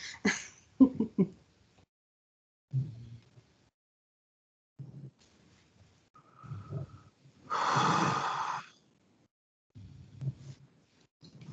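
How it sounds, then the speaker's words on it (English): Soft snoring and snorting breaths come in irregular bursts, with a longer rasping snore partway through, close by in a quiet room. "Hopefully you can't hear my dog snoring."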